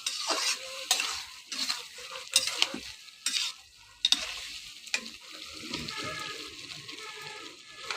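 Curry of jackfruit seeds, eggplant and dried fish sautéing in a pan, with repeated scraping stirs and clatters against a continuous sizzle, the stirring busy at first and then easing.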